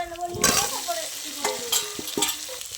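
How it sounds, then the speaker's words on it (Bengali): Potatoes being stirred into an oily spice masala, a close sizzle broken by scraping and clattering of the spoon against the pan in short irregular bursts. "আলুগুলো দিয়ে এবার কিছুক্ষণ সময় কষিয়ে নেব"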